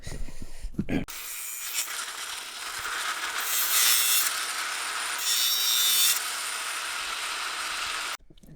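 A part is cut by hand while fitting out a camper van for heating, with a steady, close rasping saw stroke that runs continuously for several seconds, swelling twice before stopping abruptly.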